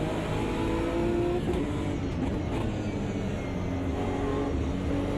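BMW GT3 race car engine in Automobilista 2 on the Nordschleife, a steady loud drone with shifting pitch as it accelerates, continuous throughout with no talk.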